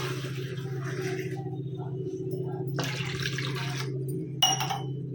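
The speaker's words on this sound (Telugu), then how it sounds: "ఒక గ్లాస్ వాటర్ని అయితే వేసుకుందాం" Water is poured from a glass into a pot of thick mashed dal during cooking, making a steady splashing pour over a constant low hum, with a brief clink near the end.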